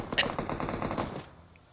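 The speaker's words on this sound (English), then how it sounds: "Looks like some shots are being taken on the car as he's flying over it." Rapid automatic gunfire in an online shooter game, a dense burst of shots rattling for about a second before cutting off, loud and close with no talk over it.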